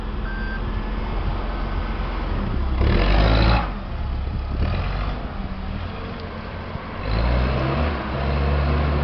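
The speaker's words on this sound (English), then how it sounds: "He's actually spinning the tire." A vehicle's engine revs hard while a tire spins, making two loud roaring bursts over a steady, noisy engine idle, heard at close range outdoors.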